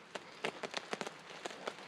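Scattered rain showers patter on a tarp overhead in a bushcraft camp overnight, heard as faint, irregular soft taps and splats spread across a quiet background.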